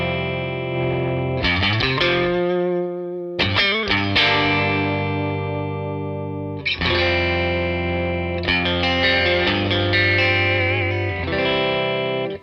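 Distorted electric guitar through a Carr Bel-Ray 1x12 tube combo amplifier plays loud sustained chords and riffs with amp crunch, pausing briefly between phrases, no voices.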